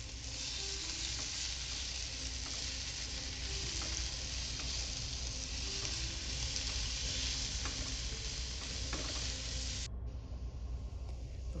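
Onion sizzles steadily in oil left over from frying chicken wings, a dense, even crackle held close throughout with occasional stirring scrapes and no voices.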